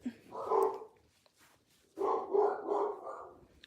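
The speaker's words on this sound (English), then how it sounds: "My dogs are barking at somebody walking down the street." Dogs bark at someone passing in the street, two bursts of muffled barking from a little distance with a short gap between them, fairly loud over a quiet room.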